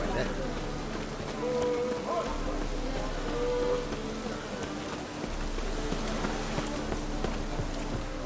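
Rain falls in the video game The Witcher 3: Wild Hunt, a steady soft hiss of drops under game sounds and a speaking voice, with a few tonal effects mixed in.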